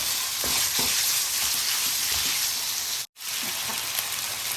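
Pork stir-frying in a hot pan for a spicy macaroni dish gives a loud, steady sizzle with occasional soft scraping of the spatula, close and continuous, broken by one brief dropout.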